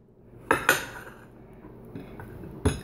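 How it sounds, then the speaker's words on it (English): A knife slicing a peach on a cutting board, with two sharp clacks close together, soft scraping, then another crisp tap of the blade on the board. "take the peach, cut it up, just like you would normally"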